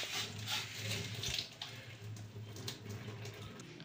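Whey from lemon-curdled milk (chhana) drains through a strainer, a soft, continuous trickle and splash of running liquid with faint low hum beneath.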